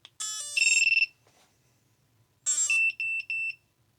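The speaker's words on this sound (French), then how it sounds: "Donc ça apparemment c'était la sonnerie AM32" An FPV drone ESC running AM32 firmware plays its startup tune: a rapid run of bright electronic beeps, a short pause, then a second burst ending in three evenly spaced beeps, loud and close in a quiet room.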